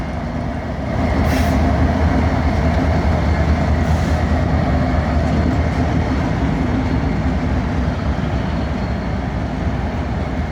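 A long BNSF tanker train rolls slowly past in Piscataway, making a loud, continuous low rumble with steady rail noise that builds after the first second and holds without a break.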